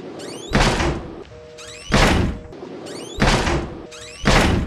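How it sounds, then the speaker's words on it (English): Four heavy door slams in the horror game Outlast, each a loud, booming thud spaced about a second apart, with creaks and faint ambient tones in between. "I go to close a door, and the dude just slams it"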